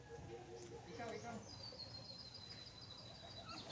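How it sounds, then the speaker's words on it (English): Caged birds chirp and twitter, a mix of short high calls and a thin sustained whistle, faint and steady against a low murmuring background. "Poor birds. Why are you in cage?"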